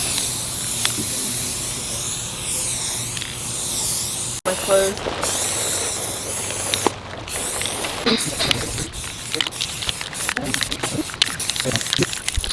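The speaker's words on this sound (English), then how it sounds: "I sprayed 2 solid coats of this dark brass spray paint" Hissing bursts of dark brass spray paint from an aerosol can coating a frame, repeated in short blasts amid handling noises, with a brief spoken remark.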